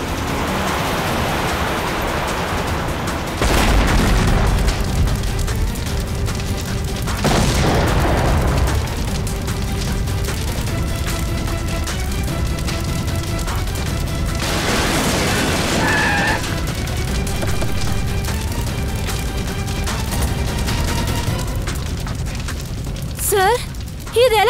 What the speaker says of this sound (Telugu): అయితే ఇంతకు ముందే కార్లో ఎవరో బాంబ్ ఫిక్స్ చేశారు